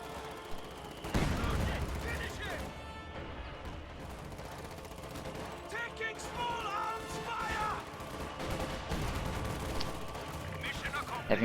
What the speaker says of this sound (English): Heavy mortar firing on the church.